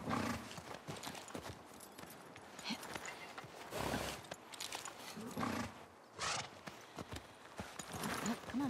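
Horse hooves clip-clop steadily amid a noisy The Last of Us Part II game soundscape, with bursts of louder rumbling and animal-like roars between the rhythmic hoofbeats.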